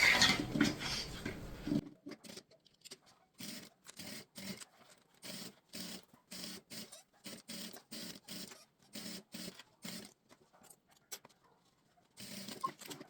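A sewing machine runs a seam along the edge of a small shoulder bag, its needle motor chattering in short, evenly spaced bursts with brief pauses between, close and steady, with no talking.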